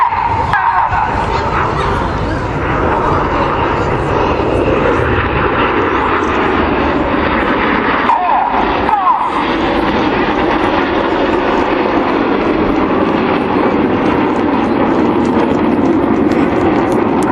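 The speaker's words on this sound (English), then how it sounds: "inside pilots perform tight match rolls to the outside of the formation in the rollbacks." Red Arrows jets performing a flying display at the Sunderland International Airshow, a loud continuous roar of jet engines sweeping overhead for the whole stretch, with a brief dip partway through.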